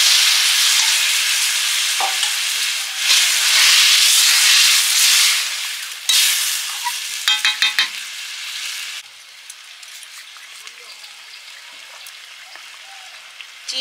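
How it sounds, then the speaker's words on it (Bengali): Boiled potatoes hit hot oil in a pan with a loud, dense sizzle, stirred with a few scraping clacks, before the frying settles into a quieter steady hiss. "এবার সেদ্ধ করা আলুগুলো দিয়ে দিচ্ছি টুটি আলু"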